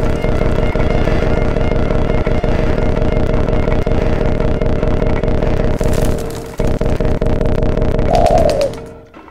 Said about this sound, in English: Fucking pigeon. Where are you? Get down here.